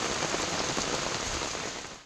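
Heavy rain pours down during flooding in Hyderabad, a dense, steady hiss of drops hitting surfaces close by that holds at full strength for about two seconds before cutting off abruptly.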